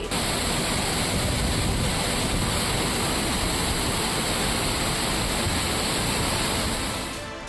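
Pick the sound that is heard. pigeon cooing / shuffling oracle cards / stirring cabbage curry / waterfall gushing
waterfall gushing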